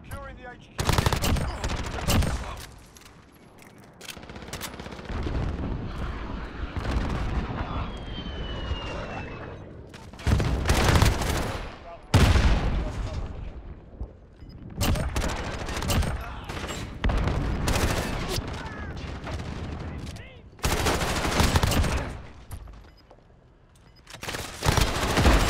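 Call of Duty Modern Warfare match with repeated loud bursts of automatic gunfire and shots in rapid clusters, separated by brief lulls, with aircraft-like engine rumble underneath.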